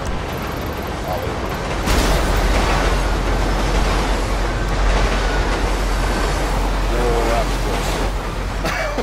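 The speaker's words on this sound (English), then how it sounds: "Almost got hit by a train." A train rumbles past in the video game GTA V, a loud, sustained low roar with a heavy rush that swells after the first couple of seconds and holds steady throughout.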